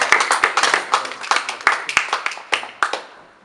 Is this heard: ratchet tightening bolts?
no